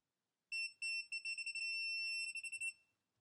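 A GOYOJO 3/8-inch drive digital torque wrench beeps on reaching its set torque: a high, shrill electronic tone sounding in a rapid string of short pulses for about two seconds, fairly loud and alone.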